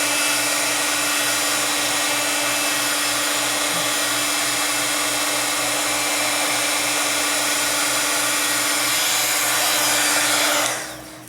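A heat tool blows steadily while drying acrylic paint in a mixed media craft project, a loud, constant whirring fan hiss with a humming motor tone that runs nearly eleven seconds before switching off abruptly, no speech.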